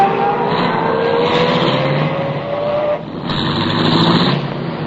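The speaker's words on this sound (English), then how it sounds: "I started the car, and the moment I pulled away from the curb, I had company again." A car engine runs steadily, its tone rising as the vehicle pulls away from a curb, with a brief dip near the three-second mark before the engine hum resumes at a similar level. No one speaks.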